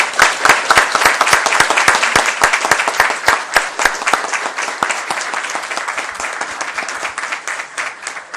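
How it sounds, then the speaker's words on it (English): Applause fills a school board meeting room, many people clapping loudly and continuously, the sound gradually thinning over about eight seconds. "Let's give Alana Cooper a round of applause."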